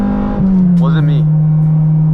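Honda Integra with VTEC and a loud exhaust, a strong steady drone close by with a brief voice breaking in.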